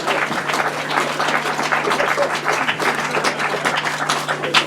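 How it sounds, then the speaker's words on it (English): Crowd at an outdoor grasstrack sidecar race meeting applauds the winners, a steady wash of many hands clapping throughout with a constant low hum beneath. "So a big round of applause to Colin Blackbourn and Paul Whitelam Jr., Mark Cossar and Tristan Winterburn"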